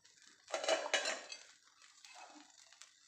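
An omelette being cut into pieces and shifted onto a plate, with a couple of close clinks and scrapes of utensil against pan and dish, then softer fading rattles.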